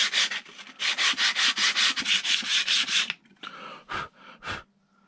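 Rhythmic back-and-forth scraping of 120-grit sandpaper on a wooden Savage Mark II rifle stock, a quick run of close strokes, then a pause and a few slower, separate strokes.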